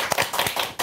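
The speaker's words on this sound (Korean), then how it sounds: "10명인데 박수가 이거밖에 안 나와가지고." About ten people clapping at an early-morning political talk event, a thin, sparse patter of claps with a few sharper hits, loud and close.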